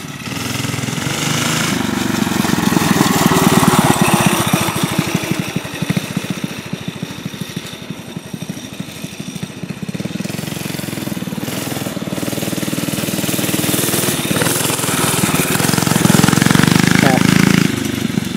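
A mini dirt bike engine drones and buzzes loudly and continuously, rising and falling as the rider revs for wheelies nearby, with talk over it.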